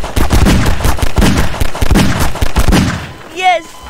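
Rapid bursts of gunfire from the video game Garry's Mod crack in quick succession, loud and close, with voices talking over the shots and a brief squeaky sound at the end.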